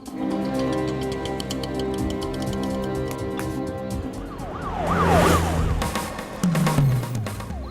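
Police car siren in an action movie, a wailing siren rising and falling over traffic noise, growing louder and closer toward the end, with no one talking.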